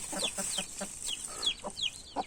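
Chickens cluck in short, repeated bursts on a village farm, with a rooster among the flock; the calls come close and moderately loud, one after another, with no talk.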